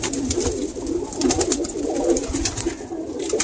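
Pigeons coo in a loft, a dense, close chorus of overlapping throaty calls with no pauses and no voices.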